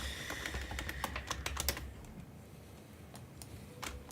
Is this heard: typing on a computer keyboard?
yes